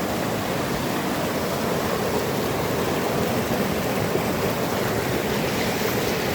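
Clear mountain stream flowing steadily beside the Beartooth Highway, a constant broadband rush of water that stays loud and even throughout, with no voices.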